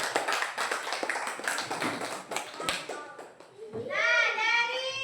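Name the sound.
classroom applause, children clapping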